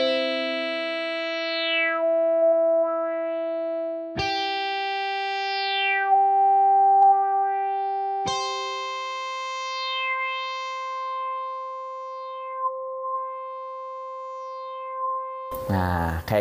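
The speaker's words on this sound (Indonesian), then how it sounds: "kita coba dengan suara gitar distorsi ya." A Medeli MK401 keyboard plays a distorted guitar voice through a filter effect, sounding three sustained buzzy notes in turn, each held for several seconds with sweeping tonal changes, ending in a brief burst of noise.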